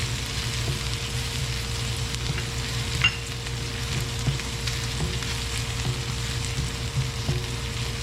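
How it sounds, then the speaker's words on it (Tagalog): Onion and garlic sauté in a pan for adobo of chicken liver and gizzards, giving a steady, close frying sizzle throughout with faint scrapes of stirring and no talking. "Atin lamang pong gigisain ng konti hanggang ito pong sibuyas at bawang natin ay hindi na po mukhang sariwa."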